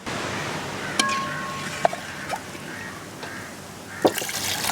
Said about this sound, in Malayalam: ഒരു ഗ്ലാസ് വെള്ളം ഒഴിച്ചോ